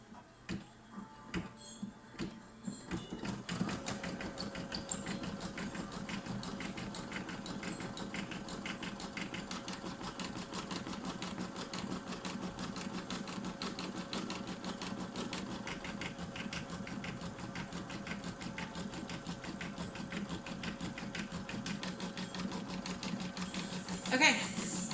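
A home embroidery machine runs its tack-down stitch on a vinyl in-the-hoop mini backpack, a steady rapid mechanical whir and tick that starts after a few seconds and holds at even loudness, with a voice talking over the opening.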